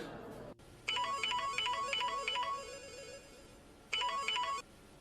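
An incoming-call telephone ringtone in a TV drama scene: a bright electronic melody plays in a repeating phrase, breaks off, then sounds once more briefly, clear and alone.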